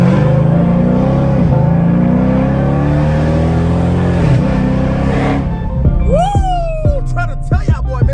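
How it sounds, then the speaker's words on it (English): Dodge Charger RT with a very loud exhaust, heard from inside the car as a deep, steady engine roar with a few rises in revs. Someone shouts excitedly near the end. "I never seen a Charger this loud"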